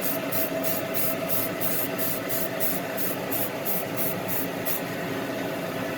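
Short rhythmic bursts of aerosol spray paint hiss repeatedly onto a model over a steady mechanical hum, close by, stopping before the end.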